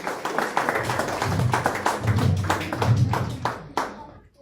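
An audience at an awards ceremony for unorganised sector workers applauds loudly, a dense, sustained burst of clapping from many hands that fades out near the end, with some voices mixed in.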